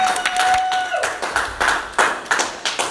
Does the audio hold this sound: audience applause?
yes